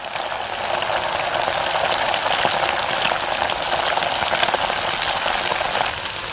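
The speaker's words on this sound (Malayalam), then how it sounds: "മുങ്ങിക്കിടന്ന് വറക്കണം കേട്ടാ." Fish submerged in hot coconut oil fries with a loud, even, crackling sizzle close by, holding steady for several seconds with faint pops and no speech.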